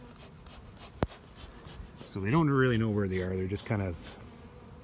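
Bees buzzing in a bee yard beside a truck, a faint insect hum running beneath someone talking close by.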